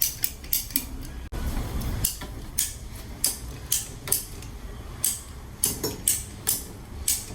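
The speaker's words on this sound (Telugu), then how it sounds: "పైపులు కట్ చేస్తున్నారు" Handheld cutters slice through plastic pipes in a run of sharp, crisp snips and clicks, roughly one every half second, heard close up with no voices.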